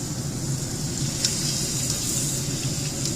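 Chuck beef searing in a pot for a beer stew, a constant close hiss of sizzling fat with a faint crackle, steady and unbroken.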